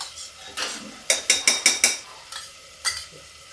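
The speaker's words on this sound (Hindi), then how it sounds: "अब इसमें हम डालते हैं ये मेरी चने की दाल" Chana dal tipped into cooking masala in a pan, heard as a quick series of sharp clattering spoon knocks against metal over a low background sizzle, with a few scattered scrapes before and after.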